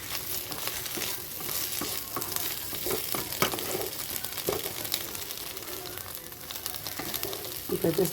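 An egg snack sizzles in a pan on the stove while being stirred, a steady crackling fry with scattered scraping and clinking of the utensil, close and fairly quiet throughout.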